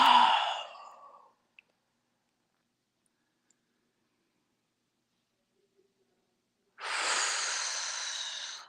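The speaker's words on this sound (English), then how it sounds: "while we're taking nice deep breaths in and out" Deep breathing during a tai chi class: a slow exhale at the start, then several seconds of silence before another long, airy breath, close and clear with no talking.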